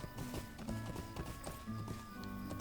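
Horse hooves clip-clop in Lord of the Rings Online as a mount travels over hills, a quick, uneven run of close hits under a steady layer of game music and background sound.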